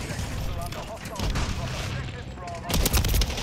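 Shotgun blasts ring out in the Call of Duty: Modern Warfare III video game, with a few sharp booms amid busy gameplay noise, the loudest burst near the end.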